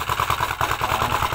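A tractor engine chugs steadily at idle, a rhythmic low throb repeating several times a second, close and fairly loud.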